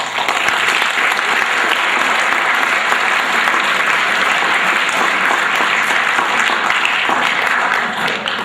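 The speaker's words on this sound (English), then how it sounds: "he deserves a big round of applause" Loud, sustained applause from a large crowd at a school winter sports awards ceremony, dense clapping continuing steadily throughout with no pauses.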